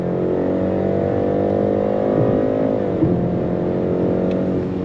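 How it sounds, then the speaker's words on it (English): A 2025 BMW X3 with an 8-speed automatic accelerates hard as the gearbox kicks down, its engine note steady and strong with a pitch shift midway, close and continuous with no talking. "8-speed drops down and we are off."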